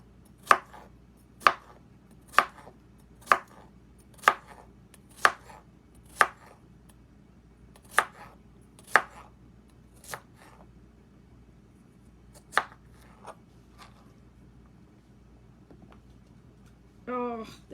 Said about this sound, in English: And now we have baby cucumbers added to it. Slice these mother truckers.